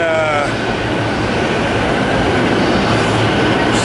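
A train rumbles steadily through Tokyo, a loud continuous roar of wheels and carriage noise, with faint squeals at the start.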